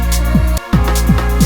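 A thick analog-style pad chord from the Serum synth, stacked with a third, fifth and sixth. It sustains loud and dense, with rhythmic pulsing, pitch swoops and a brief drop partway through.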